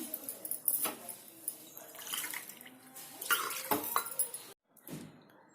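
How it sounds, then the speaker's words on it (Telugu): Water poured into washed lentils in a cooking pot for spinach dal, a close splashing pour with clinks of the vessel, in short bursts broken by a brief pause near the end. "ఒక గ్లాసుకు రెండు గ్లాసులు లెక్క నీళ్ళు పోస్తాను"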